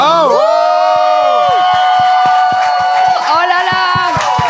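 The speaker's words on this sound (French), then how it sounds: "On l'applaudit bien fort." A live crowd cheers and applauds at a zouk music show, whoops and scattered claps rising around a sustained tonal voice or instrument sound, loud and close throughout.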